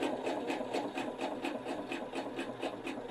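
A Pfaff 710 or 720 sewing machine stitches a dense satin stitch, a steady fast mechanical whirr with rhythmic needle ticks, close and moderately loud, running alone without talk.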